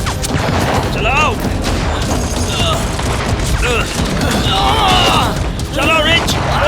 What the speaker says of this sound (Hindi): गोली चलाओ रिच। ये अटक गई है।